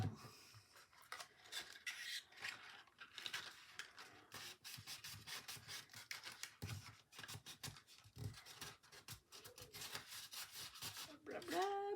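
Quiet, rhythmic rubbing and scraping of paper during assembly of a papercraft house box, repeated strokes close to the microphone with a brief squeaky scrape at the end.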